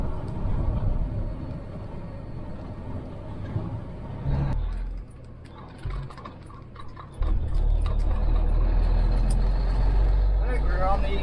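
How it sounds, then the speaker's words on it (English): A classic fully mechanical Peterbilt 359 semi truck heading downhill with the Jake brake on, a loud rumbling engine roar from the cab that drops away midway and then surges back heavier, with brief ticking and a voice speaking over it. "we're coming down the hill and just kicked the Jake brake on"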